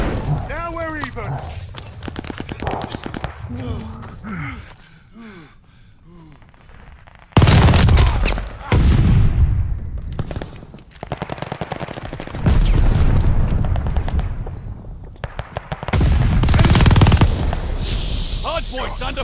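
Bursts of automatic gunfire and heavy shots from Call of Duty: Vanguard multiplayer in a hardpoint match, loud and dense in stretches, with voiced game announcer lines and other speech mixed in between volleys.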